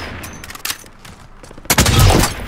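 MP7 gunfire in a video game comes as rapid bursts, a short volley early on and a louder, denser burst in the second half.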